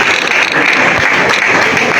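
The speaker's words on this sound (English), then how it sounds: "Please clap for Video TC fashion team." Dense, steady applause fills the room at a youth skills competition award ceremony, honoring the winning fashion technology team with continuous clapping at close range and no pauses.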